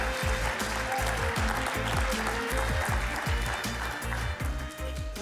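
Studio audience applause for a family band on a talk show set, a dense, steady roar of clapping with music or a rhythmic beat running underneath throughout.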